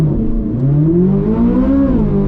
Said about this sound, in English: put it into PTM mode, floor the brake all the way, floor the gas, and off we go